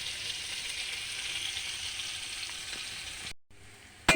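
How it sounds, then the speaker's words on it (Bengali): Bitter gourd fries in hot oil with a steady, dense sizzle that breaks off abruptly near the end, returning briefly after a short gap with a sharp clink. "এটা একটু লাল লাল করে ভেজে নেব"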